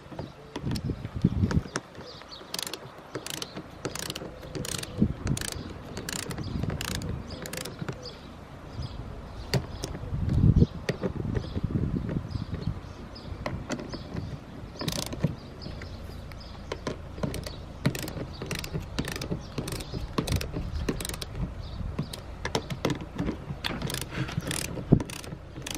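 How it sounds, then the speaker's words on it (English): A torque wrench ratchets in quick repeated clicks while tightening fuel tank bolts on an Aprilia Tuono motorcycle during a leaky tank repair, close and steady with brief pauses and a heavier knock midway. "You don't need me to teach you how to use a torque wrench."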